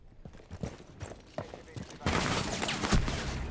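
Gunfire in a competitive esports shooter match: a few scattered shots give way to a dense, sustained volley of rapid fire, heard under a caster's commentary.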